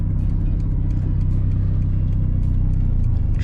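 A 1996 turbocharged Honda Civic without anti-lock brakes, rolling on all-season tires through a snowstorm, gives a steady low engine drone and road rumble. The sound holds at the same level throughout, close and unbroken.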